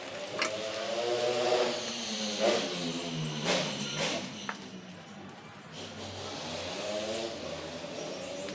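A motorcycle engine hums and revs nearby, rising and falling as it moves past, with a steady mid-pitched drone throughout.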